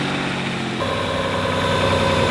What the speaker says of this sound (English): now we're gonna start the car and watch it to see if anything odd's going on